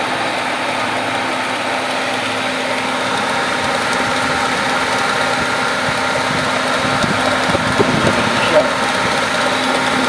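Aircon compressor running with a steady mechanical hum and engine-like drone, constant and fairly loud, with someone speaking over it at times.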